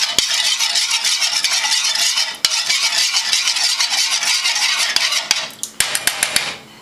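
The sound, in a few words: stirring Kool-Aid dye bath with a spoon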